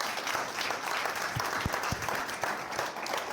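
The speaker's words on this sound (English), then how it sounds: "Please give Charlotte a big warm round of applause." An audience at a consumer duty and open banking panel event applauds to welcome Charlotte Crosswell on stage, a sustained, even clapping with a few low thumps mixed in.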